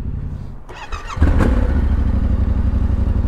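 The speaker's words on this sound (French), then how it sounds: "au démarrage on a une belle sonorité d'échappement, là encore un petit peu grave, assez chouette. pour un bicylindre" A Yamaha Ténéré 700 twin-cylinder motorcycle starts up with a brief starter whir, then catches into a deep, steady idle burble from the exhaust, close and loud with no talking.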